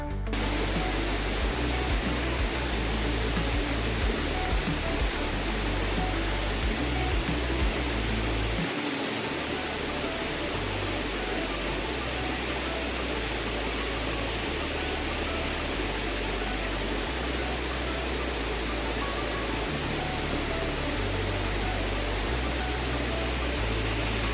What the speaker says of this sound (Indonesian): Dan air jernih yang mengalir juga